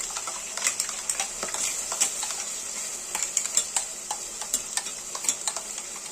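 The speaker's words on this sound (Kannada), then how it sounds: "ಈಗ ಒಂದು 5ರಿಂದ 10 ನಿಮಿಷ ಇದು ಚೆನ್ನಾಗಿ ಫ್ರೈ ಮಾಡ್ಕೊಬೇಕು" Masala paste frying with onions in a pan, a close, steady sizzle punctuated by rapid clicks and taps of a spoon stirring against the metal, with no voices.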